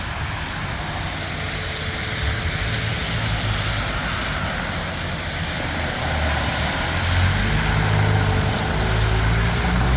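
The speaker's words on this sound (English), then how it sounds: "Pumper and ladder going out." Montreal fire department pumper truck 210 and ladder truck 410 pull out of Fire Station 10, a steady low engine rumble that builds slightly near the end.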